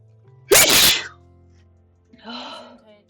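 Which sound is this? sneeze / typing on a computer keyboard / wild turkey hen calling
sneeze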